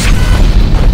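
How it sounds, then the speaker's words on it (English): Big explosion in Unreal Tournament 3, a loud, deep, rumbling boom filling the whole brief moment with heavy low-end weight. "I want to get it with the big explosion thing."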